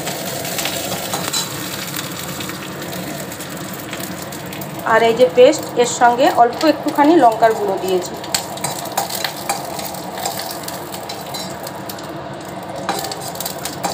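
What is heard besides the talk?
curry leaves and spice paste frying in a pan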